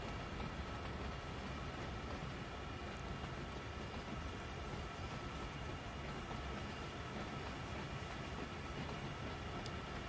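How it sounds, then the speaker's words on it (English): A coal train in the Train Sim World 2 video game loads on Horseshoe Curve, giving a continuous low rumble of rail cars creeping under the loader with faint metallic clanks, steady and moderately quiet throughout with no speech. "Or you can just sit here and watch me finish loading up this train."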